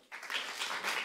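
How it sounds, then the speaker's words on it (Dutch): Audience applause at a Dutch remembrance debate, a burst of clapping that starts abruptly after a brief quiet and continues evenly from a roomful of people at moderate loudness. "Een applaus voor Robert Vijsje."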